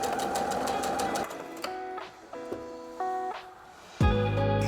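A sewing machine stitches the lining hem of a dress in short runs, its motor whirring and buzzing, pausing, then starting again, ending in a louder burst.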